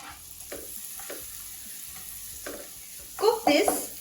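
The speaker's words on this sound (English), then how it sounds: "Once the butter has started to melt, I'm going to add in 1 onion finely chopped" Finely chopped onion fries in melted butter in a pan, giving a soft, steady sizzle with rhythmic stirring scrapes that swell louder toward the end.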